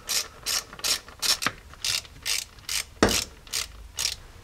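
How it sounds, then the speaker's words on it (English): Driveshaft bolts being snugged up in a crisscross pattern with a ratchet during an in-vehicle slip yoke eliminator install, giving about a dozen short, evenly spaced ratcheting bursts with a couple of sharper clanks, close and clear. "now we can snug up these bolts in a crisscross pattern like we did before"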